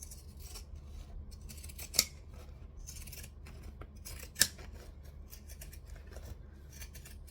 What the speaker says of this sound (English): It's always good to trim out the seam allowance.